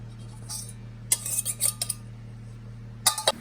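A utensil stirs sweet pandan sangkhaya custard mixture in a bowl, producing short bursts of metallic clinks and scrapes over a steady low hum, with quiet gaps between strokes.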